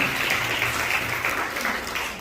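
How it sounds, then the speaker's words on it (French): Parents at a nursery school's end-of-year party clap together in a brief, moderately loud burst of applause, somewhat rough and roomy, with no talking over it. "Soyez attentifs, on applaudit."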